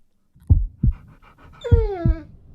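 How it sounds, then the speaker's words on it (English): A big brown dog pants close by in quick heavy breaths, broken by a few sharp thumps and a high rising whimper near the end. "that dog is big and brown"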